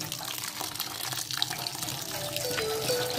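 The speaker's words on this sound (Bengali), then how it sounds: "এখন সামান্য ঠান্ডা পানি দিয়ে দেবো এর মধ্যে, যাতে গায়ে গায়ে লেগে না যায়।" Cold water poured over freshly boiled stick noodles in a bowl, a close splashing gush of running water that grows steadier toward the end.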